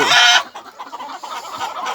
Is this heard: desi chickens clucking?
yes